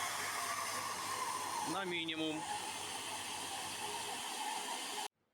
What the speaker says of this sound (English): It is better to set the vacuum cleaner for the minimum mode.